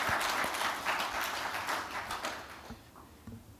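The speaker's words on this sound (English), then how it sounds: "let's give him a round of applause in absence" Audience at a bank's quarterly financial results briefing clapping for an absent chairman, a brief round of applause from a modest room that fades out after about three seconds.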